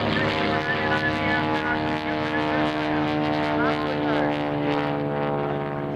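Several T6 propeller aircraft racing low past an airshow crowd on an eight-lap air race course, a loud, steady droning roar with shifting engine pitch throughout.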